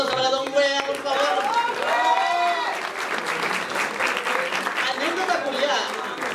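An audience at a comedy roast breaks into sustained applause and cheering, with voices shouting over the dense clapping throughout.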